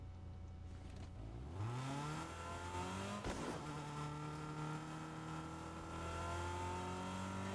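A car in Fortnite drives along, its engine revving upward in a rising pitch sweep and then holding a steady hum, with a brief sharp burst midway; no talking over it.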